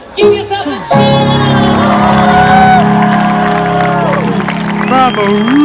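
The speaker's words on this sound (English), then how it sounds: "Give yourselves a cheer." A large outdoor theatre crowd at West End Live in Trafalgar Square cheers, whoops and applauds loudly and continuously, with sustained shouting and clapping filling the whole stretch.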